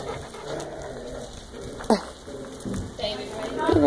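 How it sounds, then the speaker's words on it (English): Several dogs whimper and give short vocal sounds close by while a person talks over them. "Finley, I have to pet other dogs too"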